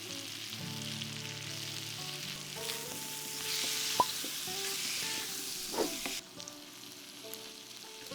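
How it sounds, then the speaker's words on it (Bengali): Potatoes fry gently with spices in a pan for a shop-style kachori potato curry, a soft, even sizzle at low volume under quiet background music, with no voices. "মশলার সঙ্গে আলুটা পাঁচ মিনিট ভেজে"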